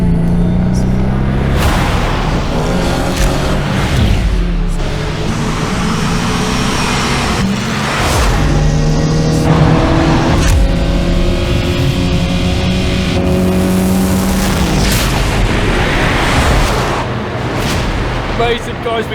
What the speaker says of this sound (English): A 200+ mile an hour car coming through.